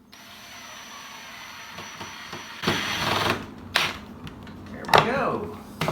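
A power screwdriver drives screws into a wooden screen door frame, giving several short, loud whirring bursts close by, separated by quieter pauses.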